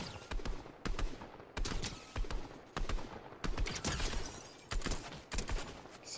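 Fortnite gunfire rattles in repeated rapid bursts over six seconds, sharp cracking volleys with short pauses between, fairly close and without talk.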